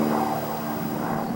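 A light airplane drones steadily overhead above open ranch country, a continuous engine hum holding at a moderate level with no voices.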